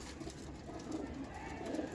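Old-breed pigeons cooing softly, a faint, low, continuous murmur of calls at a slight distance with no clear speech over it.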